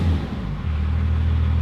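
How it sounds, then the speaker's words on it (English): A car engine rumbles low and deep, with a brief rev near the start before settling into a steady throaty idle, close and loud. "Doing a couple little revs with the tip on and the tip off,"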